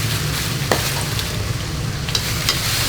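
Vegetables tossed in a pan with ginger, garlic, salt, vinegar and bagoong fry with a close, steady sizzle, punctuated by a few brief scraping stir sounds.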